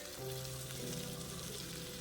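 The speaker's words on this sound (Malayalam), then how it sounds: "ഇച്ചിരി കറിവേപ്പിലയും കൂടി ഇട്ടിട്ട് നല്ലവണ്ണം ഇളക്കി ഈ വേവിച്ച് കൂർക്ക ഇട്ട് ഇളക്കിയെടുക്കാം" Boiled Chinese potato (koorkka) stir-fried with curry leaves in a pan, giving a steady, soft sizzle with light stirring noises throughout and no talk.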